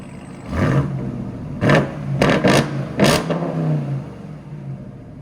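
Ram TRX pickup with a Corsa Xtreme exhaust revving hard, four or five sharp throttle blips with a deep, loud exhaust roar, the last two close together, each settling back to a rumbling idle.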